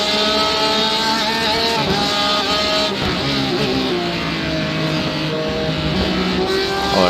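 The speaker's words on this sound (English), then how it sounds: "These Porsches are fast." Porsche race cars racing at Road America, several engines roaring loudly together with shifting pitches as they drive fast past the microphone.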